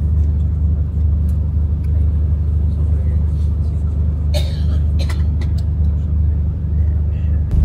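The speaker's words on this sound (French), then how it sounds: "Et là, on reprend le bus." Inside a bus on the road near Ushuaia, a heavy steady engine drone and low rumble run throughout, with scattered faint knocks and a brief clatter midway, and a few quiet sounds from passengers.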